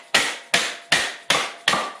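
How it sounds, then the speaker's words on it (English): Two hammers beat clamped sheet metal into a rear wheel well for a Henry J gasser. Five loud, sharp blows land close and evenly spaced about 0.4 seconds apart, each ringing briefly before the next, with no talking. "So I'm just going to use a couple of hammers, and I've clamped it and we'll start beating it into submission here."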